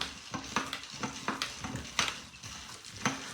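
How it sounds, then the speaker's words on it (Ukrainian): Ingredients for a forest-berry tincture stirred inside a full three-litre jar, with a run of repeated scraping, clinking strokes at a steady rhythm, close and fairly loud with no talking. "Ну і тепер перемішаю всі інгредієнти."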